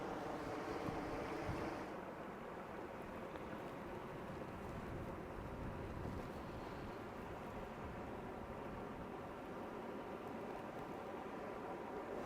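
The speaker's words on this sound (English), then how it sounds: "And then the wind, see all the ripples, it's like pushing everything." Wind sweeps across open water near an off-grid homesite in the woods, pushing ripples over the surface by a thawing dam. A steady, full rushing noise with a slightly louder gust at the start continues throughout, with no one talking.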